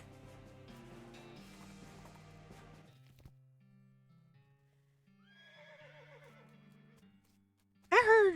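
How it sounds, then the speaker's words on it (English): In the West of Loathing video game, a horse whinnies in a single loud, shrill burst near the end, following quieter stretches of music and faint tones. "I heard a horse. It didn't sound like my horse."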